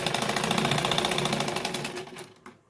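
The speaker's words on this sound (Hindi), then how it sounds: "एक और सिलाई अपन को इस तरह से इसके ऊपर से बिल्कुल किनारे पे वो डाल लेनी है" A sewing machine runs steadily, stitching right along the edge of a kurti neckline, loud and close, then slows and stops near the end with no talking.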